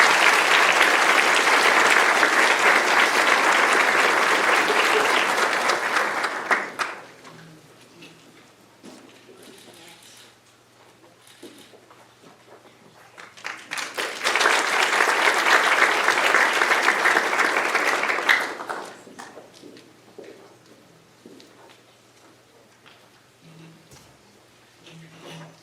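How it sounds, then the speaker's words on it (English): An audience at a Class of 2025 scholarship ceremony breaks into loud, sustained applause twice, each burst lasting several seconds before fading to quiet room tone. "Let's give them a round of applause."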